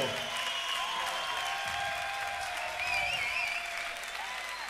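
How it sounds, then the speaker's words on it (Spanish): Audience applause at a live concert, a dense continuous wash of clapping throughout, moderately loud, with a few cheers or whistles rising over it. "Gracias a Ares, un aplauso por favor, Jaiteiro."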